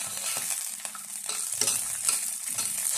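Shallots and chilies frying in oil in a pan: a steady, close sizzle runs throughout, with soft scraping stirs at a slow, uneven rhythm and no voices.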